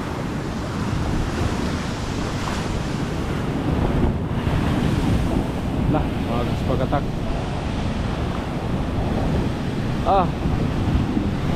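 Rough, churning water and gusting wind buffet the microphone after a storm, forming a loud, steady roar with a few faint voices speaking briefly over it.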